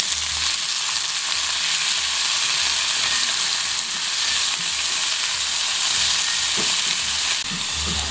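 Onion and tomato sauté in hot oil with browned garlic, filling the clip with a loud, continuous sizzle and hiss close to the pan. Faint stirring sounds run underneath, and there are no voices.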